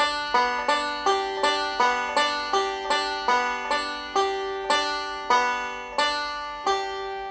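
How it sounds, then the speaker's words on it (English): Bright plucked bluegrass banjo notes repeat in a quick, even four-note rolling pattern, each note ringing clearly and close by, with nothing else heard. "Just a 4-note roll."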